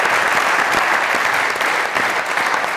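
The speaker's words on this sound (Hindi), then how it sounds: "तालियां।" Studio audience applause on a Pakistani comedy talk show, a steady, dense wash of clapping that holds loud and even throughout with no talk over it.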